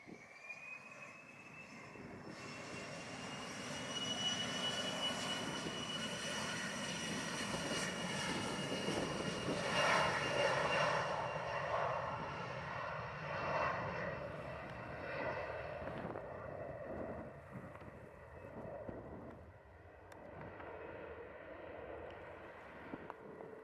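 An airliner accelerates down runway 07 at Montego Bay, Jamaica, its engines building to a loud, sustained roar with a rising whine, then receding into distant rumble over roughly twenty seconds.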